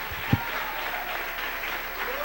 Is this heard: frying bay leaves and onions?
no